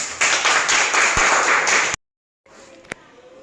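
Children clap together in a Grade 1 and 2 primary school classroom, a quick burst of loud, close hand claps that cuts off abruptly, followed by a quieter room with a single sharp knock.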